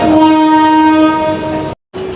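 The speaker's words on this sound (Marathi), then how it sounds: "आपली ट्रेन आलेली आहे, टायमावर आली." A commuter train horn blares loudly with sustained harmonic tones as the train arrives, cutting off abruptly, then the rumble of the train resumes briefly.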